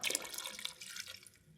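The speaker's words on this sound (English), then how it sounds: "so I'll add a little bit more water" Water is poured into a pot of pears being poached, a short close splashing pour that tapers off after about a second.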